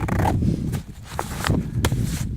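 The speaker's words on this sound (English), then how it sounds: "The pocket under that, it's actually double zippered." A double zipper on a backpack pocket is pulled in several quick, rasping strokes, close up.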